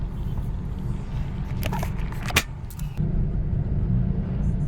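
Cars idling and creeping in heavy road traffic on Commonwealth Avenue near a bridge, a steady low engine rumble close by with a few brief clicks and rattles, no talk.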